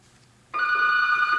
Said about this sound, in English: we're going to answer the phone